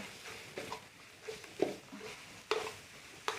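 Minced pork being stir-fried dry for Thai khua kling, with soft scraping stirs and a faint sizzle underneath, punctuated by a few sharp spatula clinks against the pan, no voices.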